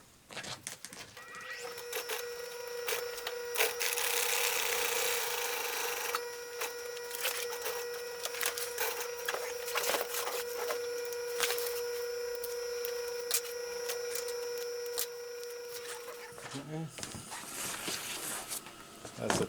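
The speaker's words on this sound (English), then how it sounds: "I'll sew that piece on first." A sewing machine runs a straight stitch through carbon sail laminate for an R.C. radial sail, a steady mechanical whir with a faint tonal hum, close and continuous before stopping near the end.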